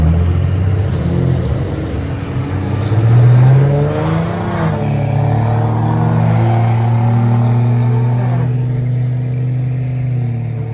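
An Infiniti Q50 3.7 with a very loud aftermarket exhaust revs and accelerates, a deep droning engine note climbing and falling through several pulls, heard up close from inside the car with no talking.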